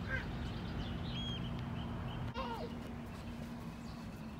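Wild ducks near Barden Tower at Bolton Abbey in England give a few faint, scattered quacks and honks, mostly in the second half. They sit under a steady low background hum.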